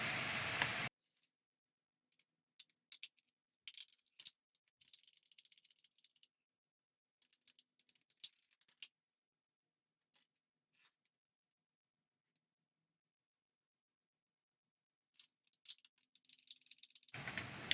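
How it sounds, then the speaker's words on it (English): PVC pipe being cut with ratcheting pipe cutters for a camp chair mod: a quiet sequence of short clicking, ratcheting bursts in irregular clusters, separated by near-silent gaps. "I went ahead and just cut it off where I had previously scored it"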